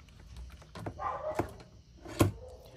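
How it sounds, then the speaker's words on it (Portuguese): A neighbour's dog barking somewhere nearby, a few short barks and yips spread over a few seconds, fairly faint and set against a quiet indoor room. "o cachorro da dona Clotilde já começou a latir"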